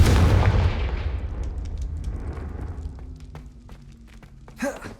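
In the video game Hogwarts Legacy, a Confringo blasting spell goes off as a loud, booming explosion that rolls away into a long fading rumble, followed by scattered small crackles and a brief thump near the end.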